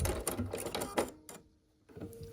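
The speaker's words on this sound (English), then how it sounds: "Start sewing and then make sure everything is matching up here nicely." Sewing machine stitching quilt block pieces, short rapid mechanical bursts up close, then stopping into near silence before a faint restart.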